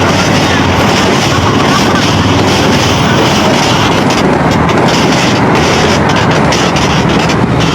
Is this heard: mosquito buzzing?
no